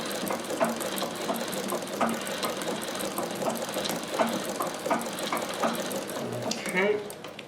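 A Singer sewing machine fitted with a zig zag attachment runs in quick mechanical ticks and clatter, a steady rattling rhythm close by that slows and fades near the end.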